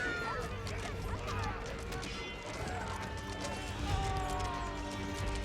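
Horse archers' hooves galloping in the Age of Empires 4 video game, a fast rapid clip-clop patter under faint game effects, moderately quiet, with a voice talking over it.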